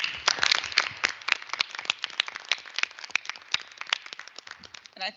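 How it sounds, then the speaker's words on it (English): Scattered hands clap together at a board of trustees meeting, a modest, uneven round of applause from a small group that tapers off after about five seconds. "to invite my fellow trustees, staff, and faculty to a round of applause in appreciation for what he's done for us"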